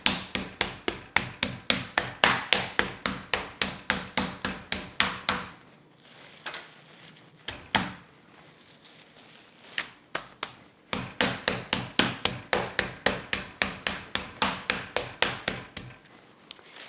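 A mallet pounds raw chicken breast flat for lemon caper chicken, in steady rapid rounds of sharp close thumps on a wooden board, a pause with a few scattered hits, then another fast run of repeated whacks.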